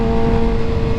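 Steady, loud engine drone from a Kawasaki Ninja ZX6R motorcycle held at revs with a sustained whining tone, close up and unbroken for about a second, no talk.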